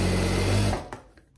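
A sewing machine stitches a viscose lycra dress, a steady dense motor whir for about three quarters of a second, then stops, leaving faint clicks and handling noise.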